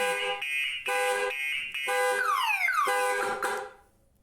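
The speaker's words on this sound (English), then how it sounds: "I told you the alarm would go off" A car alarm blares nearby, set off during a car battery swap, cycling through pulsing tones and then rising and falling sweeping wails before cutting off.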